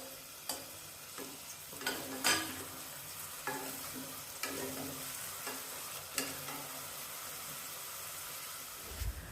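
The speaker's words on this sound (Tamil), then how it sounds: "மீடியம் சைஸில் ஒரு தக்காளி நல்லா பொடிசாக வெட்டி அதையும் சேர்த்து வதக்கணும்." Finely chopped tomato and onion sauté for Chettinad mushroom kuzhambu, a low continuous sizzle with sharp, irregular knocks and scrapes of a ladle against the pan, close and quiet.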